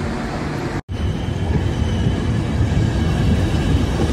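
An Italian Intercity train rumbles along loudly with a continuous roar of wheels on rails, briefly cut by a split-second dropout, then rolling on steadily.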